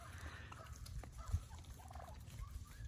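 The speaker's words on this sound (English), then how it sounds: "Listen to them talking. That's the feeding sound that they're making right there." Soft gobbling and clucking feeding calls from several wild turkeys, faint and a little distant, over a low background rumble.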